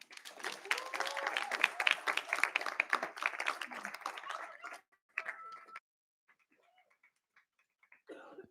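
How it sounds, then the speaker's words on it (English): Audience at a youth summit clapping for a poet coming to the stage, a lively crackle of applause for several seconds that cuts off abruptly, followed by near silence with a few faint scattered sounds. "as she comes up, please give her a round of applause"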